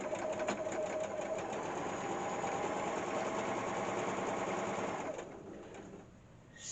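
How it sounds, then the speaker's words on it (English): A sewing machine stitches a seam on a simple drawstring bag, a steady fast mechanical whir running continuously up close for about five seconds before slowing and stopping. "So sew as close as you can, about 1/4 of an inch away."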